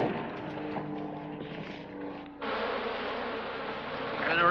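Bees swarm out of beehives spilled from a wrecked truck, a dense insect buzz that suddenly swells and holds steady and loud after a quieter droning start.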